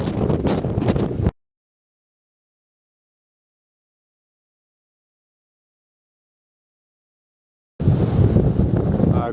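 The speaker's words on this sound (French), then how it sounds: "le vent il souffle encore bien fort ce matin" Strong wind buffets an exposed bivouac site in the mountains, with loud broadband gusts roaring across the microphone in two bursts separated by a long stretch of silence.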